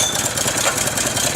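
A brand-new power sluice motor, a Keene 176 commercial unit used for gold mining near Nome, Alaska, catches on the first pull and runs at a steady, near, rough mid-pitched chug with no talk.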